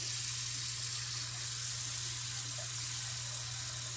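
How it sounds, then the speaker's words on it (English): Fresh tap water runs steadily into a container for home-canning potatoes, a constant broadband rushing hiss that stays even and fairly loud throughout, with a low steady hum beneath. "gonna fill this with some fresh water."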